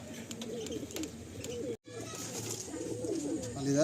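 A Star Kalanka pigeon pair in a loft gives soft, repeated coos, fairly faint under a steady background hum, with a short dropout midway.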